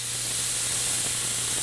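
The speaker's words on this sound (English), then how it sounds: "Steaks into the pan. You want to hear a sizzle?" Steaks sizzling in a hot pan, a steady loud hiss running throughout with no break.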